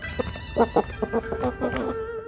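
Dragon chicken, a rare breed kept for its feet, clucking in a rapid series of short close calls.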